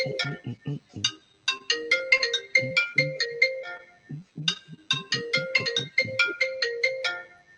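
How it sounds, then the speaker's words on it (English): A phone's ringtone sounds for an incoming FaceTime call, a bright repeating melodic pattern looping twice, close and clear with no talk over it. "My phone just ringing and I have no nothing."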